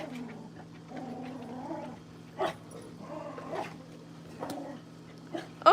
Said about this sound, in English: She is not a happy dog.